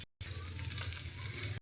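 Okra sizzling steadily in a hot pan for a vegetarian fry, a dense, continuous crackle with a low bubbling layer, close and fairly loud after a short silent gap at the start.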